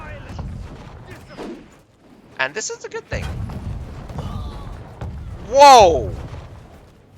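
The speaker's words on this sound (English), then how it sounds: "A cannon shot directly into that. We got 2 cannons on the wall shooting down range." Two wall-mounted cannons fire down range in a Conqueror's Blade battle, giving a cluster of sharp booms amid battlefield clatter while someone talks and exclaims over the action.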